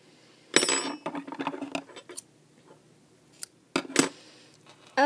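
Metal scissors snip yarn during a knitting session, a close burst of sharp clicks and scrapes, then a pause and two more quick cuts.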